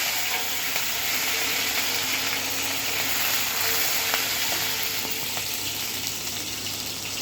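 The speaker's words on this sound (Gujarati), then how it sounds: "આપણે એમાં લીલા મરચાં ઝીણા નાખીશું" Green chillies sizzle in two spoonfuls of hot oil for a Schezwan paneer frankie filling, a steady close hiss of frying running without pause and without talk.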